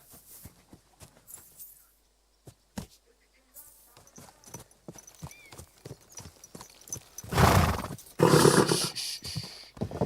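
Horse hooves clip-clop in a steady, fairly close rhythm in the video game Kingdom Come: Deliverance II, on a hot day. A louder, denser burst of sound rises near the end.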